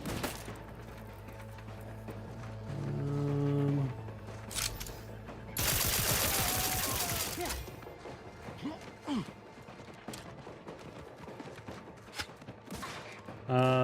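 Gunfire rattles through a session of the video game The Outer Worlds 2, with bursts and a loud crashing blast in the middle over game music and ambience, fairly quiet overall.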